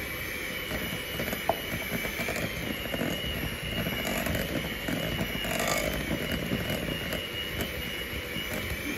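An electric whisk beats egg into bun batter with a steady, dense high-pitched whirring buzz throughout, with a faint rattle against the bowl and no talk.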